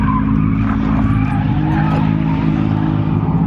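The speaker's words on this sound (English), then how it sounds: "So we managed to actually do some drifting today" A BMW drifts at a raceway, its tires skidding and squealing continuously under a loud engine for several seconds, heard from close by.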